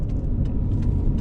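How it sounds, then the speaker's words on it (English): A steady low rumble from an old, cheap pickup truck with worn brake rotors rubbing at the rear while it drives, the road and engine noise continuous and close, with faint scraping ticks on top and no speech. "You can hear my brake rotors rubbing in the back."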